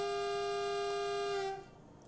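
A Copenhagen S-train on line F+ heading toward Klampenborg sounds its horn in one long, steady, clear tonal blast lasting about a second and a half before cutting off, leaving faint train ambience.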